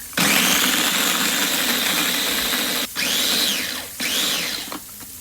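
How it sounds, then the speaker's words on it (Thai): A blender grinding chili and garlic coarsely whirs at high speed, its motor pitch dipping and rising as it briefly stops and restarts twice, loud and close. "แล้วก็พริกกระเทียมเนี่ยปั่นฮะ ปั่นแบบพอหยาบๆ"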